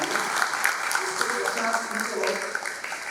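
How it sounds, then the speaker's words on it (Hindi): Applause from an audience at a Dhammachakra Pravartan Day award ceremony at Nagaloka, Nagpur, a steady dense clapping spread across the hall, with a voice speaking over it. "तो हम जोरदार तालियों से"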